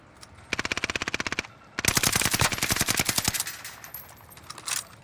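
Rapid bursts of machine gun fire in a battle royale video game, one short rhythmic burst followed by a longer, denser sustained stream of loud, close automatic shots with no talking.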